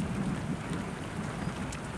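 Steady Kentucky rain falls in a soft, continuous patter, close and even throughout, with no voices.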